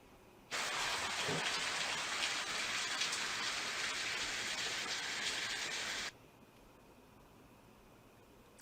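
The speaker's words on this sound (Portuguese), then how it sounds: "Esse é o som de chuva." Steady rain hisses down for several seconds, a dense broadband wash that starts abruptly and cuts off sharply, leaving near silence.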